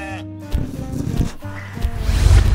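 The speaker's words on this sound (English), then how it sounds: "And the sheep having their own space." Sheep bleating in their own space on a farm, with short calls rising over a busy mixed background of other sounds and some low rumbling, fairly close and moderately loud.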